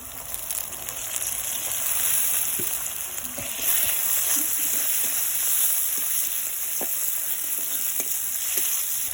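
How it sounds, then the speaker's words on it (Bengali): Chopped tomatoes hitting a pan of spice paste that has been well fried, giving a loud steady sizzle that swells around the addition, with scattered crackles and pops and no voices. "মশলাটা ভালো করে কষিয়ে নিয়েছি। এবার দিয়ে দেবো টমেটো কুচি।"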